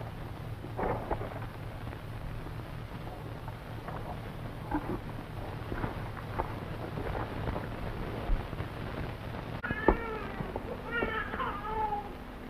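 A cat yowls in a few short, wavering cries near the end, faint against a low background hum and scattered noises.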